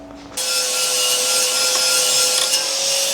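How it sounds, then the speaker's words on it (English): After a brief quiet start, an angle grinder cuts into a metal turbo manifold for a Piaggio Ape, a loud, close, steady high-pitched whine and grinding rasp that holds without pause. "so my plan now is grinder"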